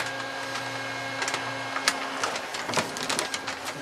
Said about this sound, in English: I'll guide the sealer along the top of the bag